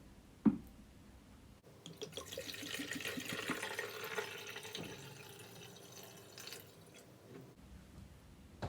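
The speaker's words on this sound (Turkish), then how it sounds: "İlk önce şu su içme suyundan şuraya bir koyalım." Drinking water pours steadily into the tank of a CLEANVAC C-20 steam cleaner, a continuous splashing fill lasting several seconds and ending abruptly, with a small knock just before it starts and no talking.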